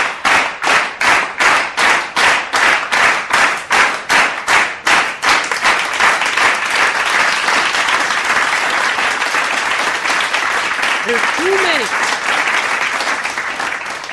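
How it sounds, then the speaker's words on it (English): Rhythmic group clapping, loud and close, starting as steady unison beats about twice a second and then breaking into a continuous burst of applause that carries on to the end. "Clap it up."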